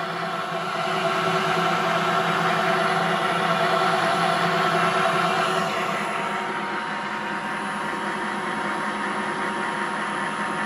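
A Nissan Leaf electric motor spins through a coupler fitted to a classic BMW under electric conversion, giving a steady whirring drone with mechanical hum that swells slightly, then holds even and close, with no speech.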